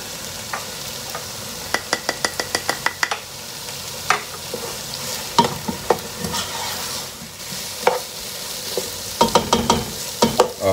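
Jalapeño and white pepper go into a sizzling pan for tomato soup while a spoon stirs. Clusters of rapid scraping clicks rise over a steady fry, close and fairly loud, with no speech.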